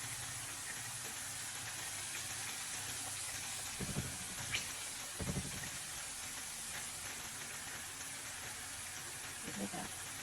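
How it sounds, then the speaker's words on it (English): Potato chips fry in hot oil with a steady, close hiss and bubbling that carries on throughout, broken by a few faint clinks. "We're gonna let it fry"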